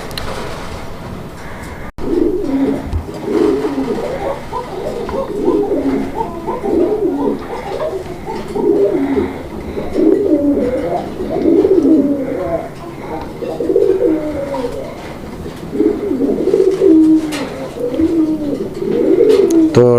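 Raj Golla pigeons coo in repeated deep rolling calls, close and loud, phrase after phrase with short gaps, and a voice can be heard now and then among them.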